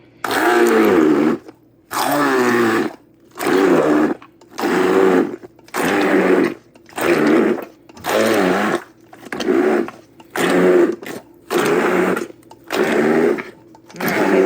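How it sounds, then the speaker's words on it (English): An immersion blender pulverizes chopped strawberries for jam in about nine loud bursts of whirring motor, each roughly a second long with short silent pauses between. "we're going to go ahead and use an immersion blender to pulverize them"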